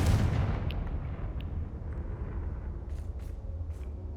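Confringo blasting spell in Hogwarts Legacy, a loud booming explosion at the start that rolls off into a long rumbling decay, with faint scattered sparkles afterward.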